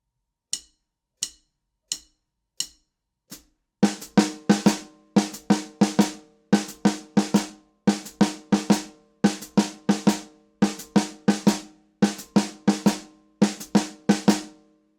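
A drum kit plays a syncopated sixteenth-note rhythm that begins on the last partial of each beat. Several isolated clicks lead into repeated bursts of sharp, close drum strokes in an even, driving pattern, with no talking.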